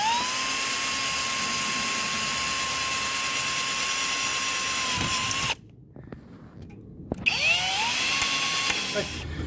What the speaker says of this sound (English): So I'm just going to drill out the body of the rivet now from the hood frame.